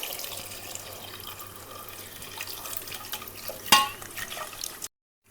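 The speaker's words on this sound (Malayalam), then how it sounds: "ഇനി ഇത് നകക്കെ വെള്ളം ഒഴിക്കാം" Water pours steadily into a pot holding tapioca, salt and chilli, a continuous splashing and trickling for nearly five seconds with a brief clink near the end before it stops abruptly.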